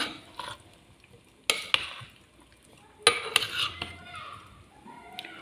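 Salad tossed and stirred with its dressing in a bowl, giving a run of scraping, clinking utensil sounds with a few sharp knocks, close and fairly loud with no talk over it.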